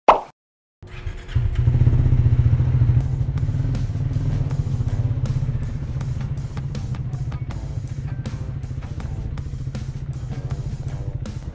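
A Triumph motorcycle engine starts up and idles with a steady, throbbing rumble, close by and loud, with a few clicks and clatters.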